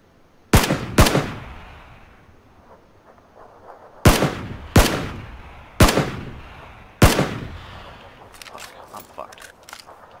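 Gunfire in PlayerUnknown's Battlegrounds: two sharp shots, a pause, then four more evenly spaced cracks that ring out briefly. Faint clicks and rustles follow.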